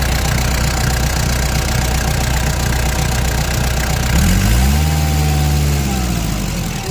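A Kubota L4508 45-horsepower tractor engine idles steadily with a loud, knocking low rumble, and a brief rise and fall in pitch partway through.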